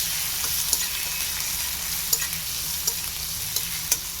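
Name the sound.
onion sautéing in a pan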